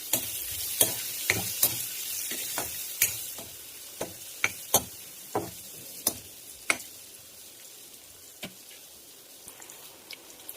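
Onions frying in a pan with chilli, curry leaves and spices for an egg masala curry, stirred so a steady sizzle runs underneath a series of sharp spoon clicks and scrapes against the pan, close and fairly quiet.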